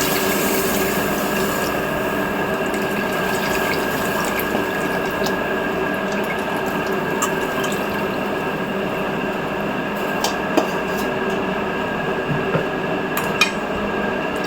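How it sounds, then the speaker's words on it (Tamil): Tamarind water poured steadily into a pot of sankara fish curry, a continuous close liquid splash and trickle running throughout with faint clinks, no talking. "அதனால புது புளி தான் ஊற்றுறேன்."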